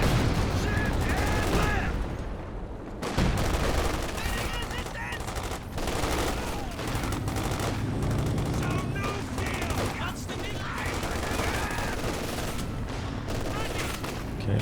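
Dense gunfire in Company of Heroes 2, a World War II strategy game, with rapid machine-gun bursts, rifle shots and a sniper shot crackling steadily throughout under a commentator's voice.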